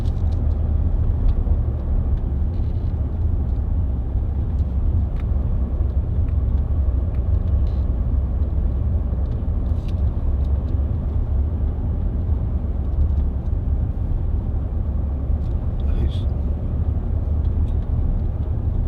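A Range Rover 4.4 TD V8 Westminster cruises at about 30 mph at 1100 rpm, giving a low, steady, quiet rumble with faint road noise and no talk throughout.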